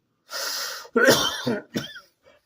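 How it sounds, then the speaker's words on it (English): A person coughs several times in quick succession, close up, with a raspy throat-clearing quality and brief pauses between bursts. "sorry about my coughing."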